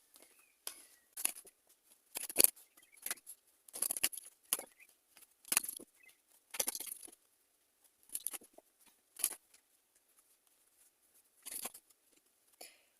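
Tarot cards are shuffled and drawn in a quiet room: faint, sporadic flicks, slaps and rustles come in short bursts separated by near silence.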